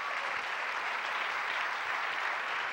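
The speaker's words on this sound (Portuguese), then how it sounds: "Aplauda o Senhor por isso." Sustained congregation applause at a family church service fills the room, an even, continuous roar of many hands clapping at a moderate level without speech.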